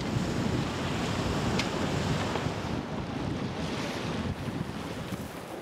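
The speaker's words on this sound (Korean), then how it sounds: "지금 이제 바람이 불어서" Strong wind blows steadily across the microphone on a rocky seashore during a fishing trip, a dense, continuous roar mixed with breaking surf, with no voices.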